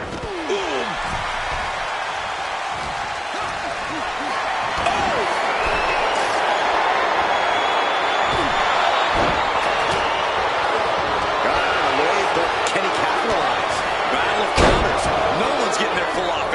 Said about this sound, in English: A series of suplexes shifting all the momentum in their favor here.